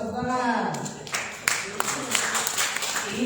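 A group claps at a plenary meeting of a youth organization in Jakarta, with scattered hand claps building into steady applause after a brief moment of voices at the start.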